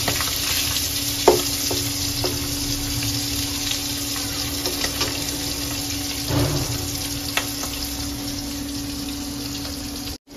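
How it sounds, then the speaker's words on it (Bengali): Pabda fish frying in oil in a cooking pot gives a steady, dense sizzle throughout, with a few brief utensil knocks and scrapes breaking through, close and without speech. "যে পাতিলে রান্না করবো পাতিল মাছটা ভেজে নিচ্ছি"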